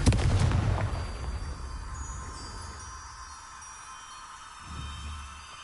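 A Confringo fire spell exploding in Hogwarts Legacy: a loud, near blast at the start that fades into a long rumbling, crackling tail, then a softer thump late in the clip.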